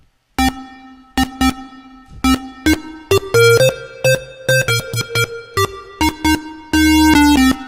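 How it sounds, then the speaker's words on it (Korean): Logic Pro X ES2 synthesizer notes played in short staccato bursts and longer holds, with a warm low sine-wave bass tone sounding beneath each note; no talking. "이렇게 사인 레벨을 여기서 키워주면은 뒤에 따뜻한 그 사인 웨이브 살아난다."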